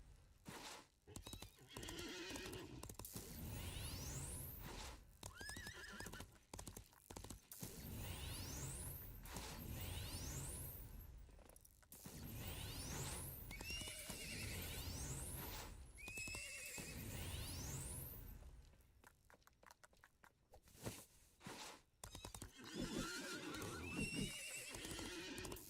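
Toy horse sound effect: repeated neighing whinnies over steady clip-clop hoofbeats, with whooshing sweeps, continuous and fairly loud throughout.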